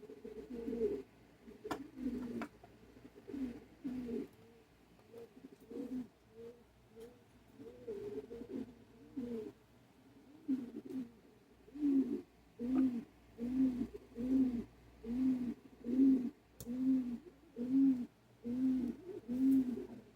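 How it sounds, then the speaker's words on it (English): A pigeon perched on a person's shoulder coos close by, starting in soft, uneven murmurs and settling into about a dozen evenly spaced, rhythmic coos. "Inspector Pigeon just came over, ladies and gentlemen, on my shoulder"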